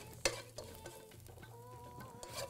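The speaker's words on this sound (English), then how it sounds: "Let's just mix this around and toast the spices for about 30 seconds to a minute." Cumin and spices toast and sizzle in a pan with salt and pepper while a utensil stirs them, giving a soft steady crackle with a few sharper scrapes, quiet and close, no talking.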